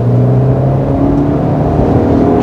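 Land Rover Range Rover Evoque compact SUV accelerating at full throttle, a steady loud engine drone with a rising tone heard from inside the cabin, with no talk.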